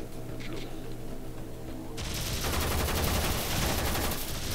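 Gunfire in the sci-fi game Warframe: after a quieter opening of low hum, a loud, dense burst of rapid automatic shots starts about halfway through and continues steadily to the end.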